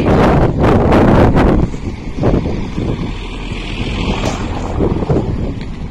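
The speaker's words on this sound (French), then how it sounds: "Il y a du vent." Strong wind on the Atlantic coast at Fisterra, buffeting the microphone with heavy low rumbling gusts that are loudest at first and then settle into a steady, fainter roar.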